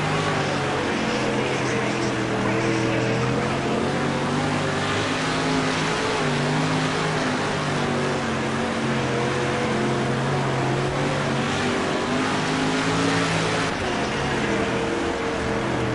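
A street stock race car engine in a racing game drones steadily at close range, its roar holding even with slight pitch wavering as the damaged car runs the track.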